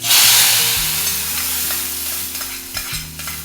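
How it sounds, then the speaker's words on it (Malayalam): A mustard seed tempering is poured into a pan of Kerala prawn theeyal and bursts into a loud sizzle that settles into steady frying crackle, close up and with no talk. "എൻ്റെ കടുക് വറുത്ത് കഴിഞ്ഞ് ഇനി നമുക്ക് കടുക് വറുത്തിനകത്തോട്ട് ഒഴിക്കാം."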